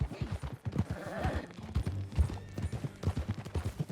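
Horse hooves clip-clop in Red Dead Redemption 2 as a new horse sets off on a ride, a quick even rhythm of close thuds with other ambient noise around them.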